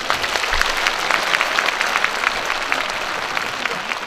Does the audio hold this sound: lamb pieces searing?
no